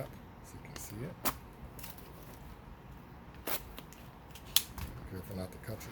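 Package holding a part ordered from Amazon being opened by hand, with crinkling packaging, scattered sharp snips and clicks, and a few distinct close handling knocks amid quiet rustling.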